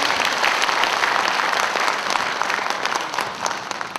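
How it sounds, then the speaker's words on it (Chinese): Audience applause fills a union members' congress hall in Kaohsiung, a dense steady clapping from a large crowd that holds loud for the whole stretch and thins slightly toward the end. "应该给年轻的掌声，也给我们大家一些掌声"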